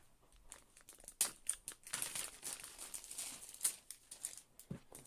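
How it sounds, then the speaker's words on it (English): A package of quilting fabric is unwrapped up close, with plastic crinkling, rustling and tearing in irregular bursts that are quiet but clear, and no voices. "Let me get this unwrapped here."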